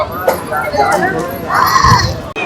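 Morning crowd of pilgrims gathering at a riverside ghat in Rishikesh, a steady murmur of many voices close by with a voice speaking over it throughout.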